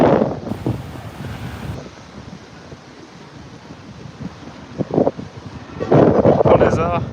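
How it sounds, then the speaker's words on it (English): Strong wind buffeting the microphone outdoors on a Paris walk, loud bursts of rumbling gusts that come and go, with a voice speaking briefly between them. "It's really windy."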